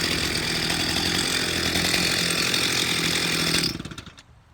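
Stihl MS361 chainsaw engine, freshly rebuilt with a new cylinder and not run in a long time, running loud and steady at high revs for several seconds, then cutting off into a fading idle sputter and quiet.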